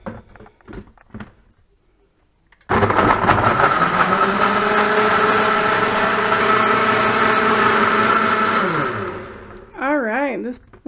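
A blender whirs steadily at full speed while mixing a vegan smoothie, a loud sustained motor drone that starts abruptly and winds down at the end, with a person speaking briefly before and after.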